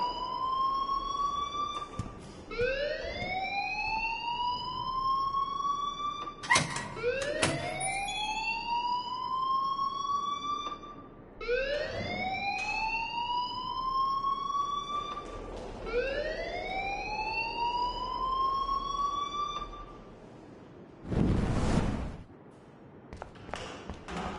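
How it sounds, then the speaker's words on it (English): An alarm in the video game Life is Strange wails with a loud rising siren sweep that repeats every few seconds, steady and alone, with a short burst of noise near the end. "please turn off that alarm since that's your job"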